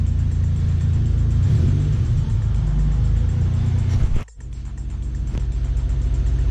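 Turbocharged Mazda MX-3 engine running rich while driving, a loud continuous rumble that briefly cuts out with a sharp drop around four seconds, then resumes and builds again.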